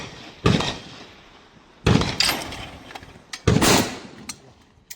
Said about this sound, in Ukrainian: Одна тарілка, один постріл.